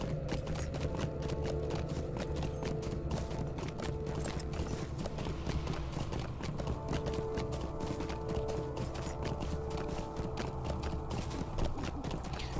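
Horse hooves clip-clop steadily in the video game Lord of the Rings Online, a continuous rapid rhythm of close, moderately loud hoofbeats against a constant game background.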